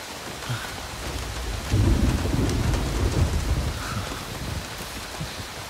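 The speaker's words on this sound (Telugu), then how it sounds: "మంచి వర్షం." Heavy rain pours steadily in a thunderstorm, a low rumble of thunder swelling midway and fading beneath the constant hiss of falling water, with no voices.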